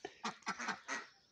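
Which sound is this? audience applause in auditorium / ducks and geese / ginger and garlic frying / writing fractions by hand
ducks and geese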